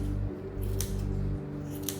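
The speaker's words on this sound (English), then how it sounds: "I've got these rounded end scissors here that I like to use." Rounded-end scissors snip close by, trimming hair on a Doodle dog's paw, two or three quick sharp cuts over a steady low hum.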